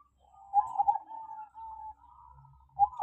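A black-spotted perkutut zebra dove coos close by, a soft wavering trill that rises, sustains and trails off, then starts again at the end, with faint low background rumble.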